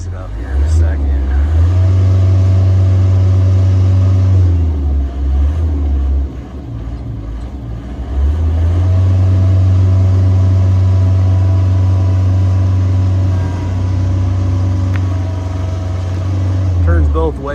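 Deutz diesel engine on a 1999 JLG 600S boom lift, a loud, close, low droning rumble that swells, dips briefly, then holds steady again as the machine drives forward and reverse.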